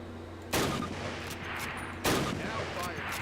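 Two loud Springfield rifle shots fired at a target in Call of Duty, each a sharp crack with a lingering tail, about a second and a half apart over quiet ambience.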